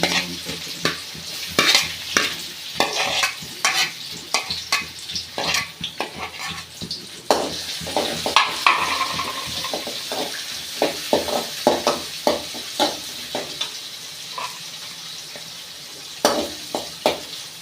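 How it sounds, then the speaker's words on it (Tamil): Chopped onion fries in hot oil with spluttered mustard seeds for rava upma, a steady sizzle under repeated scraping strokes of a spoon against the pan, close and fairly loud. "வெங்காயம் போட்டுக்கலாம் கடுகு பொறிஞ்சிச்சு"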